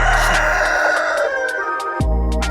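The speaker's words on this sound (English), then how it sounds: "Chicken." Chicken sound effect, a loud close rooster-like crowing and clucking call in a few sharp bursts, ending with a sudden drop in pitch.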